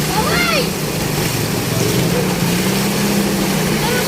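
Water gushes loudly and steadily from a burst Maynilad water pipe, a continuous broadband rush with splashing, while people talk nearby.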